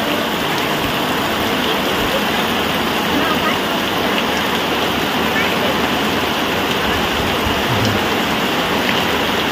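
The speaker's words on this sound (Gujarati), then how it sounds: "મસ્ત વરસાદ પડે." Steady heavy rain pours down in a village setting, a dense, continuous hiss of water falling on surfaces that stays loud and even throughout with no pauses.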